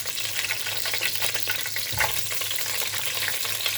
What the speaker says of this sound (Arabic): هنزل بيها على الزيت